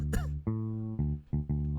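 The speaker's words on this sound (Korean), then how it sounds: "아니 왜 밥 먹는데 옆에서 기침이 있지?" A person coughs beside someone eating a meal. One sharp burst sounds first, followed by a run of short, harsh, tonal coughs with brief pauses between them, set against a musical beat.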